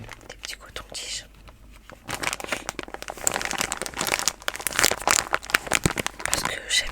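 A plastic packet of cotton swabs crinkles close up, crisp rustling bursts that grow denser and louder in the second half, with soft whispered talk at times.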